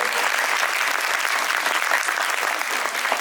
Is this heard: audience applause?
yes